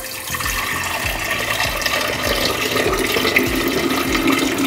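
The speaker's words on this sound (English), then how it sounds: "now I have this beautiful kefir water and I'm gonna pour it back into the jar" Homemade water kefir is poured from a container back into a jar, a steady close gurgling stream of liquid with small rhythmic glugs throughout.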